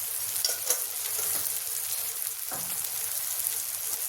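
Cumin and Kashmiri chili powder hit hot oil for dal dhokli, giving a steady, close bright sizzle with crackling spits and occasional stirring clinks throughout.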